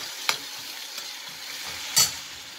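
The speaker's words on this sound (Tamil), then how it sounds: "அதையும் தட்டி போட்டுக்கலாம் தட்டி போட்டுக்கலாம் நல்லா வதக்கிக்கோங்க" Crushed garlic frying with tomato and potato in a pan for a tomato-potato gravy, a faint low sizzle with two sharp utensil clacks, one early and a louder one near the end, and no voices.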